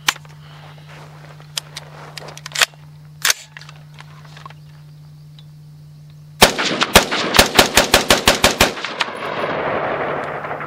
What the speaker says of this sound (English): I have 10 rounds I'm going to fire just for the fun of it